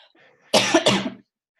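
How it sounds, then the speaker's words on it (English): A single loud, close cough of two quick bursts, preceded and followed by near silence. "Sorry, I still have a cough."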